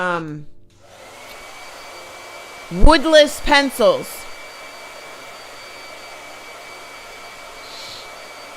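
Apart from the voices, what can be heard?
blow dryer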